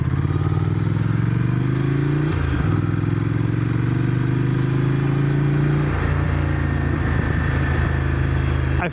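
A motorcycle engine runs close and loud throughout, its steady drone rising in pitch through two gear changes as the bike accelerates.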